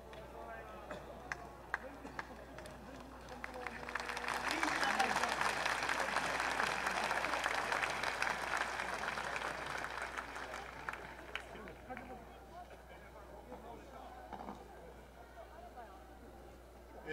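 A crowd claps together at a Kanda Myojin shrine festival in Tokyo, a faint, distant burst of applause swelling and fading over several seconds amid quiet ambience.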